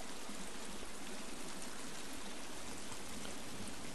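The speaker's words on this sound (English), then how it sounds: "I hear that water" Stream water flowing in the survival video game The Forest: a steady, full rushing babble that stays even throughout, with no voices.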